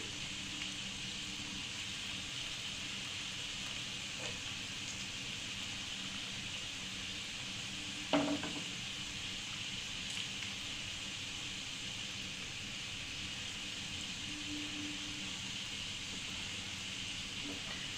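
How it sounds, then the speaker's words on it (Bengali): Bread-based sweets fry in hot oil with a steady, even sizzling hiss that holds throughout at moderate level, broken once by a brief clatter. "এবার আমি মিষ্টিগুলো একে একে ভেজে নিচ্ছি"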